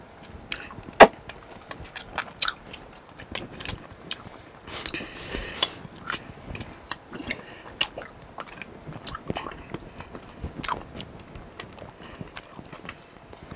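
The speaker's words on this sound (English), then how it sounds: "You're chewing it?" Sour lemon candy being chewed and bitten, with crunchy cracks and wet mouth clicks in irregular bursts, close and fairly loud, during a super sour challenge.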